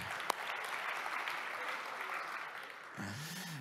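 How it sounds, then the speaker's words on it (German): An audience at a church service applauds in a steady, even wash of clapping at moderate level. A sharp knock sounds near the start, and a voice begins speaking near the end. "Genießt euren Applaus nochmal hier auf dieser Welt"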